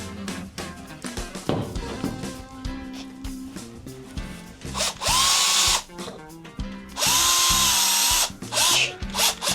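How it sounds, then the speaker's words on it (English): A power drill fitted with a Phillips head bit, used while cleaning a dryer vent, whirs in several bursts of varying length, some short and stuttering, others sustained and loud, with handling clatter in between. "got my drill with a Phillips head bit"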